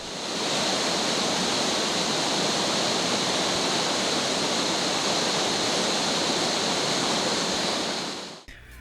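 Amicalola Falls, a 729-foot waterfall in north Georgia, roars in a steady, loud, broadband rush of falling water that holds even and unbroken for about eight seconds before cutting off abruptly.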